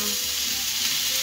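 Seasoned peppers and onions fry in a pan with a brief, steady, close sizzling hiss and no voices.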